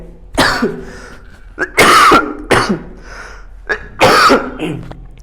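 A run of loud, close coughs, three or four harsh bursts with throat-clearing rasps between them, no talking.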